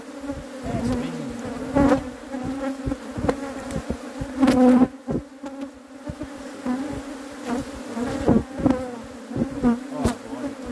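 Honeybees buzz around an opened, well-developed apiary hive, a loud, close, continuous droning hum with individual bees swelling past, and occasional handling knocks from the hive frames.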